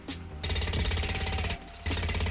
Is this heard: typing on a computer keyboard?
no